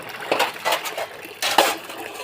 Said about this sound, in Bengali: একবারে বেশি বাসন মাজতে খুব অসুবিধা হয়